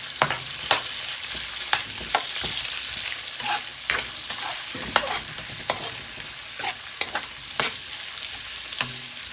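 Onion sautéing in a pan over medium-high heat, a steady bright sizzle broken by repeated sharp scrapes and taps of a utensil stirring against the pan, close and fairly loud with no talking.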